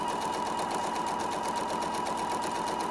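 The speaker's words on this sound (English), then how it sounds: "sew down the edge" A sewing machine runs steadily, stitching down the edge of quilt block fabric pieces placed right sides together at a quarter-inch seam, a continuous close, even mechanical whir with no talking.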